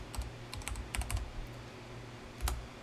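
Quick clicks of a computer keyboard as a folder name is typed, a short burst of close, crisp keystrokes in clusters, with a pause before a final pair of taps.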